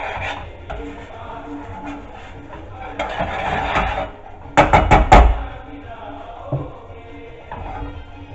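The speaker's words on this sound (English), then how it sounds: "Stir it occasionally just to scrape the caramelised ingredients off around the outside of the pan and off the bottom of the pan." A spoon stirs and scrapes chicken korma ingredients around a pan, giving intermittent rasping scrapes with a quick burst of sharp knocks against the pan near the middle.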